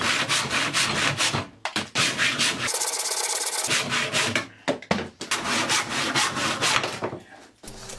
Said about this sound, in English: I then started to remove more material with the saw.